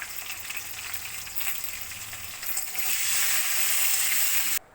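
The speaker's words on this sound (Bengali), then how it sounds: "আলুটাকে আমি ভেজে নেব" Potatoes frying with salt and turmeric in oil in a pan, giving a steady, close sizzle that grows louder and denser toward the end before cutting off abruptly.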